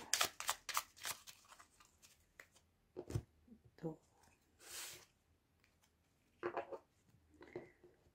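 Lenormand fortune-telling cards cut and handled by hand in a crisp series of quick papery snaps and riffles, with a few softer slides, while a person talks between the bursts.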